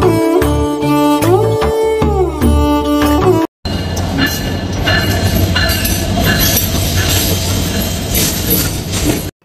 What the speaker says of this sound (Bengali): আজকের ট্রেনটি অলরেডি প্ল্যাটফর্মে চলে এসেছে